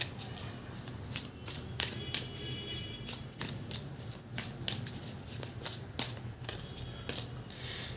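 A deck of tarot cards is shuffled softly and quickly, with rapid riffling taps and flicks in a quiet room, without any talking.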